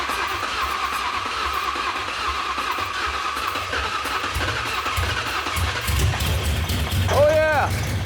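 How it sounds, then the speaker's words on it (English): An 800-horsepower Cobra Mustang engine, abandoned and left sitting for about 20 years, coughs and briefly fires on starting fluid, a rumbling catch beneath an ongoing low hum, ending with a short rising whine. "It fires with starting fluid."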